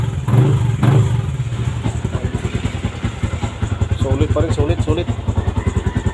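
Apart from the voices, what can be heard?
Yamaha Sniper v2 motorcycle engine starting and running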